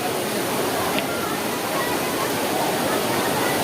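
A river rushes loudly at Sahastradhara in Dehradun, a constant, close, broad roar of churning water that fills the whole stretch without a break.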